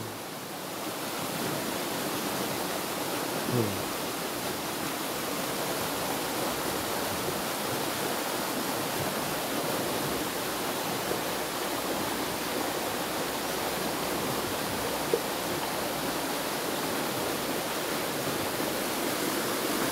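River water flowing in Nagcarlan, Laguna, a steady broadband rush that stays constant and close for the full twenty seconds, with no voices over it.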